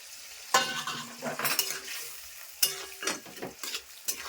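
Fish dropped into a simmering curry in a home kitchen pan, with sharp sizzling bursts and scraping stirring strokes coming in uneven clusters, close and moderately loud with no voices.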